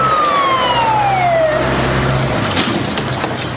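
An ambulance siren in an EastEnders drama scene wails loudly and close by in traffic, its pitch sweeping downward over a steady rumble of road and engine noise.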